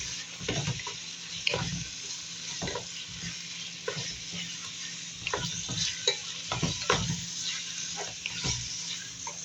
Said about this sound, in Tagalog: Mix lang natin. Habang tayo nag-luto na chicken adobo.